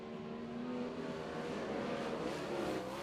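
Dirt speedway race cars roar hard on a restart, several engines blending into a loud, steady howl that swells slightly as the field accelerates away.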